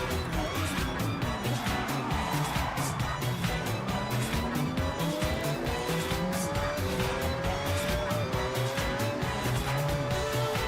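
A Schuppan 962CR race car in Forza Horizon roars continuously at high revs, with rising and falling engine pitch through gear changes and tire noise underneath.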